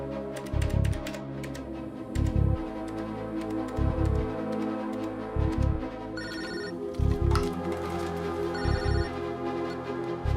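A telephone rings in short repeated bursts during a tense film scene about a kidnapping, sounding over a steady bed of dramatic background music with low thumping hits.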